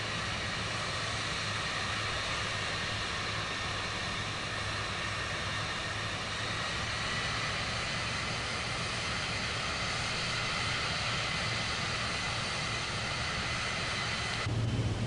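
Biplane engine in Microsoft Flight Simulator 2024, played on PS5, giving a loud, steady, broadband drone with a constant low hum that holds evenly throughout and has no talking over it.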